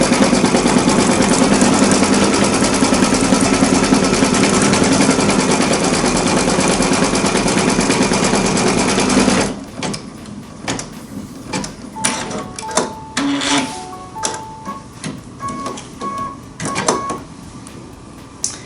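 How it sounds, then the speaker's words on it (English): An embroidery machine stitching a bean stitch on an appliqué Christmas ornament makes a dense, loud, rapid mechanical chatter for about half the time. It then stops, leaving quieter scattered clicks and a few short electronic beeps. "Now you see the bean stitch stitching out right now."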